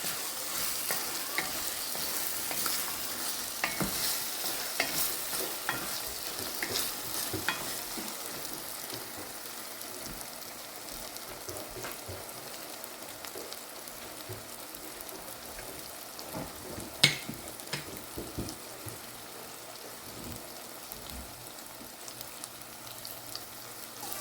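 Chopped garlic fries in hot oil in an iron pot, a soft, continuous crackling sizzle broken by scraping stirs and occasional sharper pops, fairly quiet and steady throughout with no talking.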